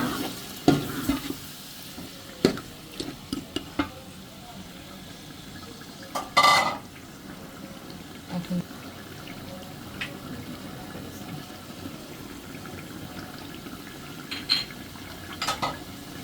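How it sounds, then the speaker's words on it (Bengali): Spices and onion stir-fried in oil for beef biryani, with hot beef then added: a low steady sizzle carries through, punctuated by scattered spoon scrapes and clinks against the pot and one louder clatter, with no talking. "মশলাটা ভালো করে পেঁয়াজের সাথে একটু কষাই নেব তেলটা উপরে উঠে গেছে এখন আমি গরম মাংসটা দিয়ে দিব"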